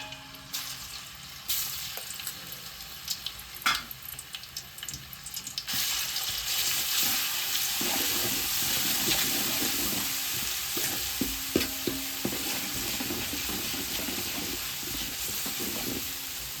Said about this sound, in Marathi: आता आलं लसूणची पेस्ट टाकून घ्यायची